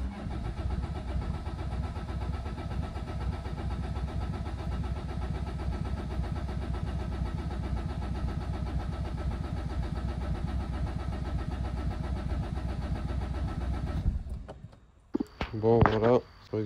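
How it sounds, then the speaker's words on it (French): A Peugeot 207 engine runs loud and steady near the microphone for about fourteen seconds, a continuous idling drone, then cuts off abruptly, followed by brief clicks and someone speaking. "il me reste plus qu'à tenter un démarrage en espérant que ça marche"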